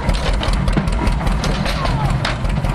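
An antique tractor-driven straw baler runs near and loud, its engine droning with repetitive mechanical thumping and clatter as the straw is pressed and packed.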